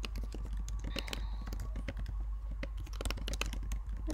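Fingers tap out a rapid, uneven run of key clicks on a nearby computer keyboard while a description is entered for publishing a game project on itch.io, over a low steady room hum.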